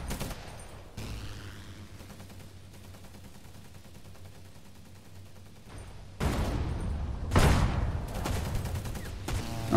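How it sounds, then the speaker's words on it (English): Gunfire crackles during a Roblox World War II airship battle, a steady faint rattle of shots through most of the stretch, then louder, closer bursts toward the end. "I don't know what this guy is shooting at."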